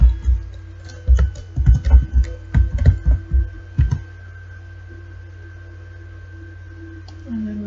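Fast bursts of keystrokes clatter on a computer keyboard in quick uneven runs, then stop, leaving a quiet hum and a faint click near the end.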